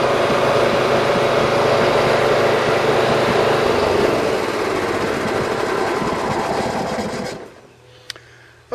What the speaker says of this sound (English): I've decided to mow the backyard of my neighbors